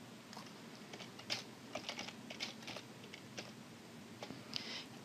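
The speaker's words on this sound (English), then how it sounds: "I'm just going to go ahead and type it in." Someone typing an IP address on a computer keyboard, a steady run of quiet, close key clicks with uneven rhythm and no talking.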